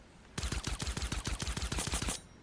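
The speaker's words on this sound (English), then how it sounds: "Now I'm gonna switch to the suppressed pistol." A suppressed pistol firing in Fortnite, a fast even string of about fifteen muffled close shots that starts abruptly and stops after about two seconds, with no talking.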